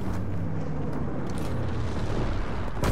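Incendiary firebombing from a low-altitude bomber in Call of Duty WWII: continuous roaring, rumbling explosions with crackling bursts, loud and dense for the whole stretch.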